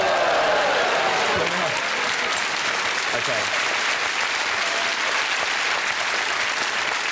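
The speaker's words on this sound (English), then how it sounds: "You literally applauded fire." A studio audience applauds after a brandy flambé flares up in a pan, loud sustained clapping from many hands filling the room throughout, with a brief spoken word over it.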